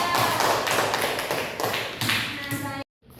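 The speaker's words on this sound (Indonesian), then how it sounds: "Kasih aplaus untuk Onida" A classroom gives a round of applause for a student, with a burst of scattered clapping from several people that ends abruptly in silence.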